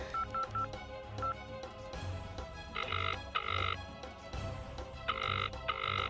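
A telephone being dialed, with a quick run of short beeping tones followed by paired bursts of ringing or dial tones under faint background music.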